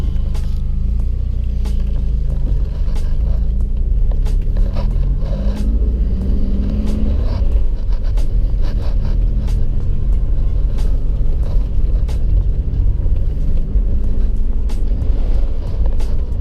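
A Volvo car engine, after head gasket repair, runs steadily with a low, continuous rumble, close by and fairly loud, with some faint shifting tones over the idle.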